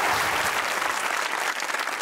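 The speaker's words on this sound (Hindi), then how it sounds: "तालियां होनी चाहिए सलमान सर" A studio audience at a televised talk show breaks into loud, dense applause that holds steady throughout with no pause.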